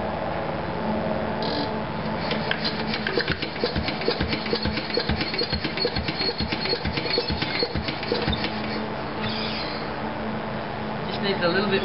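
A Coventry Victor engine, primed with oil in the cylinder and leaking compression at the head gasket, turns over in a steady rapid chuffing rhythm for most of the stretch, loud and close, with a faint background voice.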